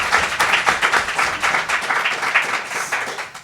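Audience applause at the close of a talk on clean transportation technology: a few seconds of brisk, even clapping from a room of people, fairly loud and close, with no speech over it.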